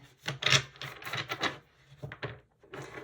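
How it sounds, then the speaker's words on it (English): Tarot cards being shuffled by hand, a series of soft papery riffles and rubbing swishes in uneven bursts with short pauses between, close and quiet. "I'll shuffle more as I tune into your energy"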